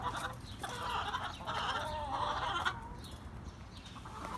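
Backyard hens clucking close by while being fed kale, a busy overlapping chatter of soft calls and cackles from several birds with no talk.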